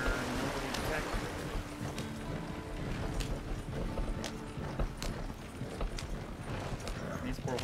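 Horses galloping in the Red Dead Online video game, a fast, continuous drumming of hooves with clip-clop beats over rumbling noise, while a player talks over it.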